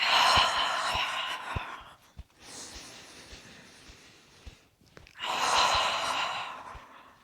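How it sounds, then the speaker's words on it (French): Slow, deep breaths during a yoga session: two long audible exhales separated by a quieter stretch, close and soft. "On prend 3 grandes respirations."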